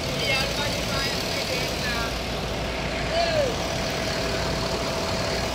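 A Sempati Star bus engine hums and rumbles as it turns around, a steady, moderately close drone mixed with background street noise and faint voices.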